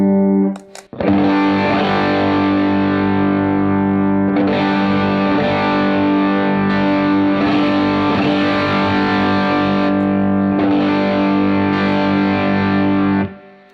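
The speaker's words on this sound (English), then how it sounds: "So I think we'll start with the drive boost, show you what more gain is like." Electric guitar driven through a Fender Santa Ana overdrive pedal with its drive boost engaged, ringing out long sustained distorted chords after a short pick attack, loud and alone until a cutoff at the end.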